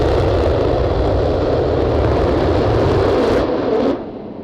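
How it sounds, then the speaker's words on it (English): SpaceX Starship Ship 24 fires two Raptor rocket engines in a static test, a dense, steady roar filling the whole clip that drops sharply in volume near the end. "Two Raptor engines were lit up in this instance"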